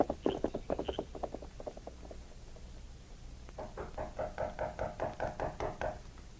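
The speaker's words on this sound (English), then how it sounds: "The knocking on the door finally wakened Jim." Two bursts of rapid knuckle raps on a door, a quick volley of about eight knocks, a pause, then a longer steady series of knocks, fairly close and crisp in a quiet room.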